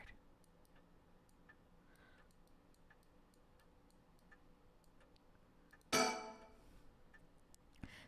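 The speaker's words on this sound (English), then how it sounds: "Ticking seems so loud." A clock in the horror game Paranormasight ticks steadily and quietly in a hushed room, with one sharp, brighter clatter cutting in near the end.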